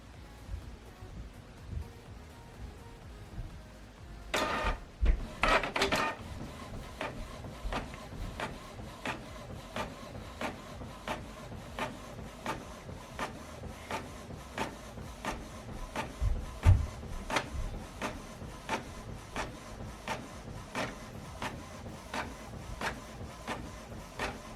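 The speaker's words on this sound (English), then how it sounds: "Okay, this is the document we printed out on both sides." Canon printer running a double-sided black-and-white print job, a faint mechanical whir punctuated by a loud feed clatter early on, then a steady series of rhythmic clicks and ticks as the paper moves through.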